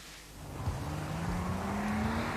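A police training car from the West Midlands Police Driving School, 1980s, in a simulated high-speed evasion manoeuvre: a steady loud engine roar rising in pitch as it accelerates, with a tyre squeal hinted on top.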